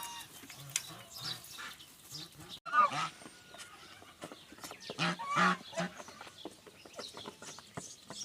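Geese honk from their nest on a rural farm in western Ukraine in irregular bursts, with a couple of louder calls standing out over softer farmyard clucking and rustling nearby.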